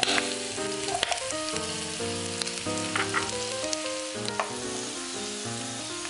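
Garlic frying in a pan for a pork-tail binagoongan dish, a constant close sizzle heard under loud, continuous music.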